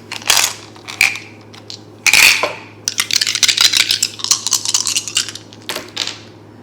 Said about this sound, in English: Okay, the dice.